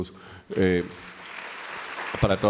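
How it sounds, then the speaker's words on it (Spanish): Audience applause at a self-care forum session rises as a broad, hissing wash of clapping that swells toward the end, mixed with someone talking over it. "un aplauso para todos"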